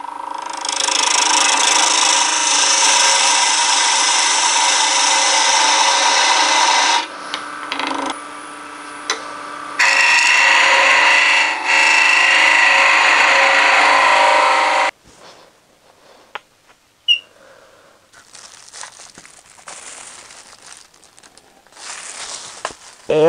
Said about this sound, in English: I am going to turn down a tenon to 3/8 of an inch